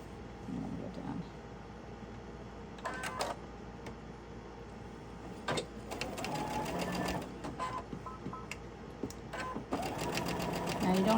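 A sewing machine stitches heavy fabric in a studio, running in several bursts of rapid needle chatter of varying length, while someone talks over much of it.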